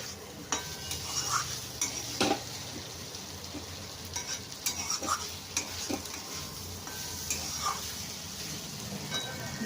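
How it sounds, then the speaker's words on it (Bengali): Ivy gourd and potato curry is stirred in a pan, a soft steady sizzle under repeated scraping and clinking of a spoon against the metal, fairly quiet and close. "নেড়ে আমি নামিয়ে দিচ্ছি।"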